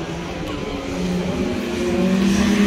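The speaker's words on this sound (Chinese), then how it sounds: "有摩托车的骑士，他们有集体就是租借场地在这边来赛车" Motorcycles lapping a race track in Taichung beside a theme park hotel, heard as a continuous engine drone that gradually rises and swells, fairly loud and steady.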